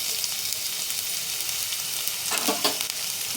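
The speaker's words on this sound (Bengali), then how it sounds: "আমি এখানে দিয়ে দিচ্ছি পেঁয়াজ কুচি।" Chopped onion hits hot oil in a wok and sizzles steadily, a bright continuous frying hiss with a few stirring scrapes near the end, with no talking.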